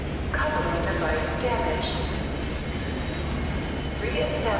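A tram car in the video game F.E.A.R. 2 rumbles along with heavy low rolling noise and rattling, brief higher squeals and tones rising over the steady rumble, which stays close and loud throughout.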